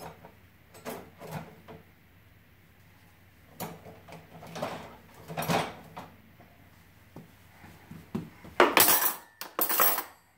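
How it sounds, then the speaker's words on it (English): Silverware being put away in a kitchen drawer: a series of scattered metallic clinks and clatters, near and fairly quiet, with a louder burst of rattling toward the end. "Putting the silverware in the drawer."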